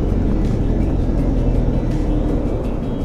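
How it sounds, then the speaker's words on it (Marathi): Morning highway traffic at Chandni Chowk in Pune, a loud, steady, close rumble of moving vehicles with a constant engine and tyre drone and no talking. "थोडं ट्रॅफिक दिसतंय, माझ्याने सकाळ असल्यामुळे एवढं असायला नको। तर प्रचंड असं ट्रॅफिक दिसतंय"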